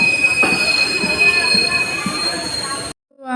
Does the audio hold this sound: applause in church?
no